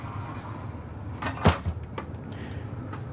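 A glass-panel pocket door slides in the bedroom of a Newmar Dutch Star 4020 Class A motorhome, a quiet rolling glide capped by one sharp thud near the middle and a few softer knocks after, over low background hum.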